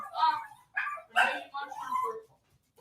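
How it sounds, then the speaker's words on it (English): A dog barks and yips in short bursts, fairly close, with a few whimpering notes between the barks. "Noah, could you grab her, please, so that she stops barking?"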